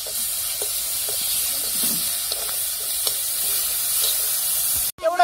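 Crushed garlic and green chili frying in a pan for Maharashtrian dahi kadhi, a steady close sizzle with occasional stirring scrapes, ending with a brief louder clatter.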